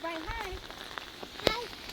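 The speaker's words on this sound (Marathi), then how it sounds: "पाऊस जास्त आहे त्याच्यामुळे गोळ चालू आहे बघा" Heavy rain pours steadily in a broad hiss on the way to a temple near Mahabaleshwar, as a nearby voice sounds briefly over the downpour and a single sharp tap stands out near the end.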